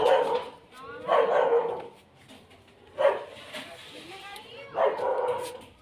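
A dog barks in bursts of several yaps across a few seconds, fairly close, in a village family setting, with some background noise between the bursts.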